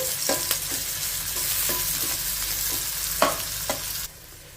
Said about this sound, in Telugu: ఇప్పుడు ఈ ఉల్లిపాయ ముక్కల్ని ఒక 2 నిమిషాల పాటు ఫ్రై చేసేసుకోవాలి.